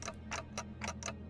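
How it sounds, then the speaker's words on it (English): Rhythmic ticking from the Limbus Company video game, five evenly spaced bright ticks over a steady low hum, fairly close and moderately loud with no talk. "It's ticking faster, so I guess they can still feel pain."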